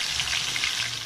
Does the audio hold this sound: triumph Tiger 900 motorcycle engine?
no